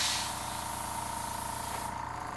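An airbrush sprays paint in a continuous, even hiss at close range, holding steady for about two seconds before easing slightly at the end.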